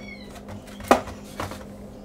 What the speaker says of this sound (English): Cat got me all cocked up, it did. Making a whole bunch of noises.